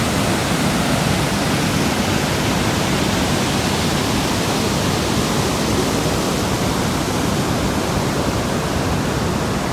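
Fourteen Falls waterfall in Kenya, a dense, loud and unbroken roar of falling water that stays constant throughout, with nothing else audible over it.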